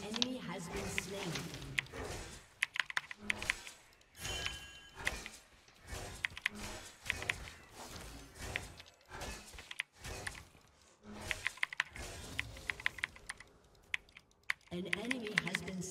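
Computer keyboard typing during a League of Legends-style match, bursts of close clicky keystrokes with pauses, under intermittent talk and game sounds.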